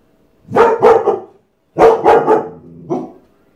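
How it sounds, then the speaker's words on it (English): A dog barks in two quick pairs of loud, close woofs, then gives one shorter, softer bark after a pause. "YouTube doesn't want to hear you bark"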